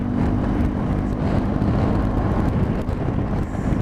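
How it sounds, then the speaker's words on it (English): Strong wind roaring and buffeting the microphone during a drive on back roads, a loud continuous rumble with gusty fluctuations throughout. "God, it's fucking windy."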